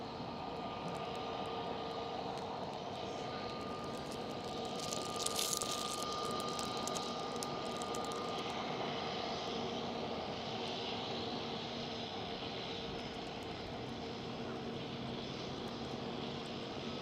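A Dutch Coast Guard aircraft passing at Amsterdam Schiphol airport gives a steady, loud engine roar with a brief airy swell partway through. It stays constant for the whole stretch with no talk.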